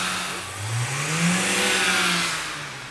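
A BMW 5 Series E61 engine revs up from idle to around 3,000–3,500 rpm, a steady, loud, rising drone that holds high before easing off, close by with no talking.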